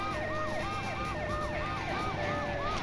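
An ambulance siren from the video game Driver 2 wails in a fast, repeating up-and-down cycle, steady and prominent over low engine rumble, with no talking.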